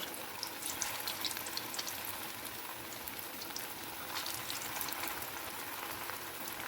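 Aloo suji batter fries in hot oil, a steady, soft crackling sizzle throughout with no talking.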